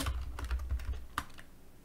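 Quick bursts of keystrokes on a computer keyboard during a Lisp programming session, an irregular clatter of close, crisp clicks followed by a single sharper key press and then quiet.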